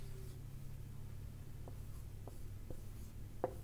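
Marker or pen strokes writing the letters TCH on a board, a few short scratchy taps spaced over several seconds against a steady low hum, fairly faint and with no talking.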